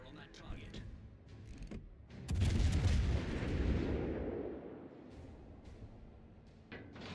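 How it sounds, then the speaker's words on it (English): Warship guns firing in a naval combat video game: one heavy, booming salvo that rolls out and fades over a few seconds, with lighter game sounds before and after it. "All stations, concentrate fire on that target."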